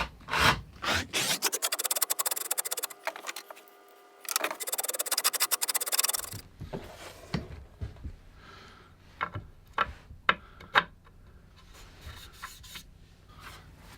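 A stepper drill with a 12mm step gently widens a hole in a wooden guitar body, a loud steady grinding whir for several seconds, followed by softer scraping and tapping of wood handling.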